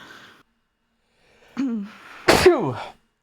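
A sudden sharp sneeze bursts out, loud and close, following a brief breathy vocal sound and a quieter murmur at the start.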